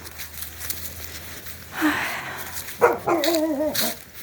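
A dog barks a few times at moderate distance outdoors in a yard setting, short rising calls after a quiet stretch with faint background noise.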